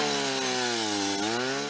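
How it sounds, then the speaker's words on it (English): A drill bores into Arctic permafrost to extract a core, giving a loud, steady, harmonic mechanical whine with a slight dip in pitch midway, running continuously close by. "Natali uses this drill to extract permafrost"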